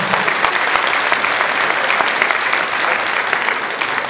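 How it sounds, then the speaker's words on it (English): Steady, loud applause from an audience at a high school graduation ceremony in Kenya, dense clapping sustained throughout without pause. "Can you clap for her?"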